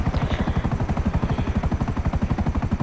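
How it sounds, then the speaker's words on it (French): Loud, rapid rhythmic thumping of helicopter rotor blades in GTA V Online, steady and close, with a whining engine tone underneath. "c'est un bon hélicoptère"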